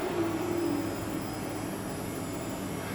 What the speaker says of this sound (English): it's a maximum RPM, so that's a maximum noise produced by the system